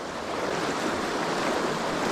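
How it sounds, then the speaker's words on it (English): Fast pocket water in a stream rushes loudly and steadily in a dense, even roar close to the microphone, heard alone with no voices, at a spot being fished with nymphs. "We got some nice pocket water in front of us."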